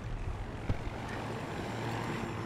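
Helicopter in the shooter game Battlefield 2042, a steady loud rotor and engine drone that fills the whole stretch evenly, with a faint thump partway through.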